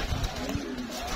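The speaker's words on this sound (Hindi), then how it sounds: "ये दोस्तों इनका कबूतर है, उड़ने वाले माशाल्लाह कबूतरों का शौक करें" Pigeons kept in a rooftop loft in Gujranwala give a brief, soft cooing call close by over a steady low background hum.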